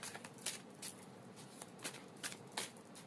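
Tarot cards being shuffled and drawn, a run of crisp riffling flutters and soft slaps repeating in short bursts, close and fairly quiet, with no voices.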